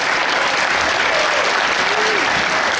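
A large Comic-Con crowd applauds at a Superman 75th anniversary panel, a loud, continuous roar of clapping that holds steady, with faint voices in it.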